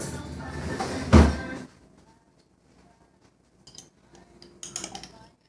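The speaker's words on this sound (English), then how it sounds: "Where's my fork? I gotta grab a fork." A fork is snatched up in a home kitchen, giving one sharp metallic clatter followed by a quiet pause and a few lighter clinks of cutlery.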